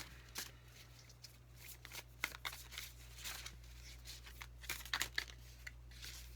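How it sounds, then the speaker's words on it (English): A tarot deck is shuffled quietly up close. Soft papery riffles and flicks repeat irregularly over a low steady hum, with no voices. "Let's unbox these lovely cards and get to shuffling."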